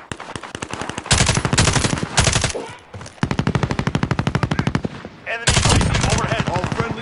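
Video game automatic gunfire comes in loud, rapid bursts of machine-gun fire, with several long strings of shots separated by short gaps.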